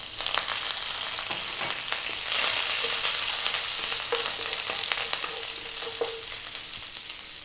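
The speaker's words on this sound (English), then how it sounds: "Then we're going to go in with the curry leaves. They can be really noisy sometimes." Curry leaves hit hot oil on high heat, giving a steady loud crackling sizzle with sharp pops and spits throughout, close and alone.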